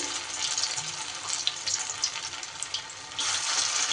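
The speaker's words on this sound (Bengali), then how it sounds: "তেল গরম হয়ে গেলে এইবার দিয়ে দিতে হবে পেঁয়াজির আকারে।" Dahi pakoras, onion fritters made with yogurt instead of besan, crackle and sizzle steadily in hot mustard oil, a dense close hiss that swells slightly near the end.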